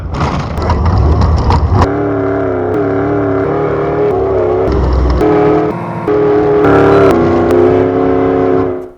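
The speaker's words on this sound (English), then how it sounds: "So this is a Ford Performance 347 stroker motor." Engine of a vintage Ford Bronco race truck fitted with a Ford Performance 347 stroker crate V8, a loud, continuous running rumble with shifts in revs and no speech.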